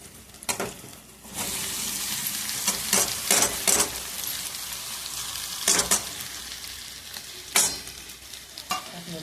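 Potatoes hit a hot pan and fry with a constant sizzle, broken by repeated sharp scraping bursts from stirring at irregular intervals, close and fairly loud, with no speech.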